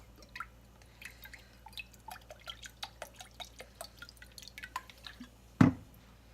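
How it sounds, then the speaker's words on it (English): About a quarter cup of Worcestershire sauce is poured over pork tenderloin as a marinade, heard as a quick series of soft, close drips and splashes that ends in one louder thump. "some Worcestershire sauce, about 1/4 of a cup"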